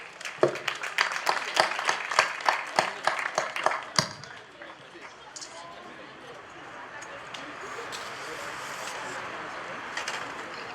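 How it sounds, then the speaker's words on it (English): At a prison inmates' graduation ceremony, an audience claps in sharp, distinct strokes for about four seconds, then the clapping fades into a softer diffuse murmur of crowd noise. "Let's have a round of applause."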